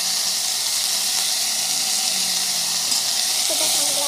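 Beans frying in a pan with a steady, loud hiss of sizzling oil that fills the whole stretch, with a faint stir or scrape near the end.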